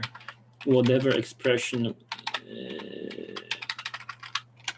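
Fingers tap on a computer keyboard in a quick irregular run of clicks, close and clear, after someone speaks briefly.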